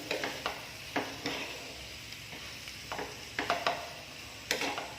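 Cooked chicken being stirred into masala in a pan, a continuous low sizzle with repeated scraping, knocking strokes of a spoon against the pan, no talking.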